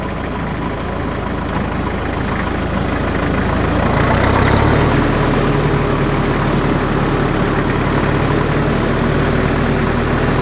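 A restored 1961 Porsche Diesel Master 418 tractor runs in its slowest gear, its diesel engine chugging loud and close in a steady, knocking rhythm that swells briefly midway before settling back to an even drone.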